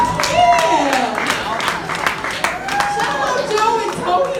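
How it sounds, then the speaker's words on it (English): Scattered clapping from an audience welcomes two musicians onto a stage at a Jewish Christmas event, modest and uneven applause with people talking over it. "Let's give them a round of applause."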